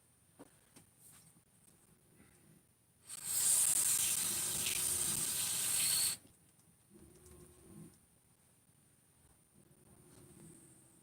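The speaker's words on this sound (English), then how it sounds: "give it a spray and clean it" Cleaner sprayed onto a motorcycle crankcase part in a workshop: one steady, loud hissing spray burst of about three seconds, alone, with faint handling clatter before and after.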